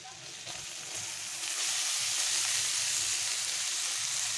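Turmeric frying in a pan for a Bengali stuffed kakrol kabab curry, a steady close sizzle that grows a little louder halfway through and carries on without talk.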